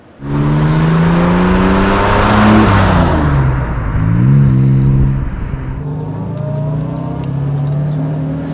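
A 1958 Jaguar XK150 3.4 roadster, restored and warmed up, accelerates hard with a loud, close engine note that rises in pitch, dips briefly as it shifts, then climbs again and settles into a steady drone.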